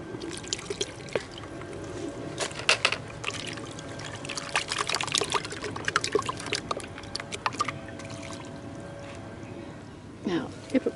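Water trickles and drips in uneven spurts, close by and fairly quiet, with a brief gurgling splash near the end.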